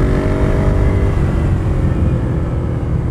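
Ducati Desert Sled motorcycle riding with its engine loud and close, a steady droning rumble whose pitch slides gently downward as the bike slows under light braking.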